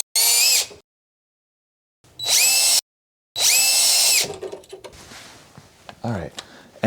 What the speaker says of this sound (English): we're going to get our screws and our drill gun, and we're going to screw 4 times into place